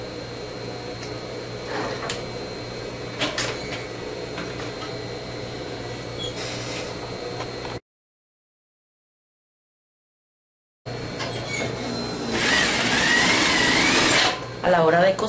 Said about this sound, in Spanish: vamos a pasarle una costura a un centímetro a nuestras cuatro tiras